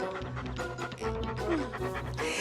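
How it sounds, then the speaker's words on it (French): A cartoon dog panting in a children's animated show, quick breathy rhythmic pants close up, with a faint whine between them and a voice briefly in the background. "Va chercher mon chien."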